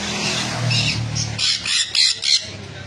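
Sun conure parrots in a bird shop let out loud, harsh squawks, with a noisy stretch followed by several distinct shrieks in quick succession.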